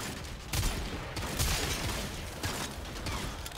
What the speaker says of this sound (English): I didn't realize its gun was firing that close